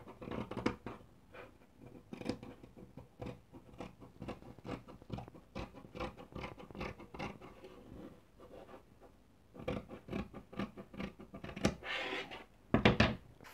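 Scissors cut through fabric for a wrap dress in repeated close, crisp snips and slicing crunches, uneven in pace with short pauses, fairly quiet overall.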